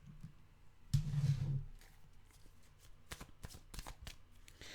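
Tarot cards being shuffled by hand, a burst of riffling close by near the start followed by quieter scattered card taps and slides, with no talking.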